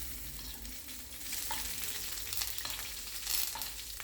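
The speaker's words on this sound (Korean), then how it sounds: "버터, 마늘, 타임을 넣고 불을 끕니다." A salmon steak sizzles in a pan with butter, garlic and thyme, the heat just turned off after frying over medium heat. A steady close crackle continues with faint stirring and spattering, with no voices.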